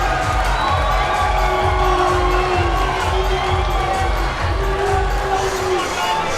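A crowd cheers loudly at a Georgia MMA fight, a sustained roar of shouts and whoops filling the arena, continuous and dense, with indistinct voices mixed in.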